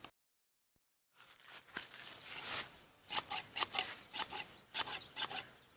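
GARDENIC hand garden shears trim a small boxwood bush into a ball after a moment of silence, giving a quick series of close, crisp snips and rustling leaves.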